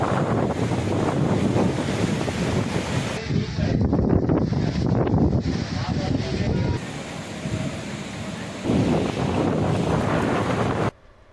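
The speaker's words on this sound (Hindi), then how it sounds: "शामड़ाजी में तेज हवाओं के साथ धूल उड़ती हुई देखने मिली।" Strong wind roars continuously across an open area in Shamdaji, raising dust, with loud broadband gusting that swells and dips, dropping off abruptly at the end.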